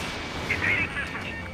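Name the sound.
missile hitting target in video game Ace Combat 7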